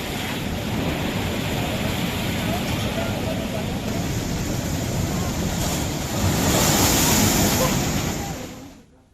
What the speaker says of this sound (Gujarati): દ્વારકાનો દરિયો ગાંડોતુર બન્યો હોય